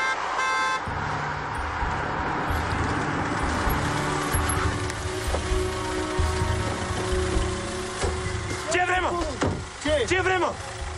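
Traffic arriving along a busy Romanian ring road: a steady wash of engines and tire noise, with voices over it and several sharp car horn blasts close by near the end.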